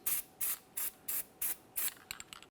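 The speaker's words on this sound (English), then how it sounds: "Let's apply some anti-seize." Anti-seize spray goes onto the rear brake parts of a 2017-2024 GMC Acadia in six short, even hissing bursts, close and fairly quiet, followed by a few faint scuffs.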